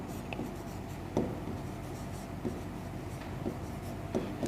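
Marker or chalk scratching across a board during a physics lesson, a steady low scraping texture broken by a few light taps and strokes, close and moderately quiet, with no voices.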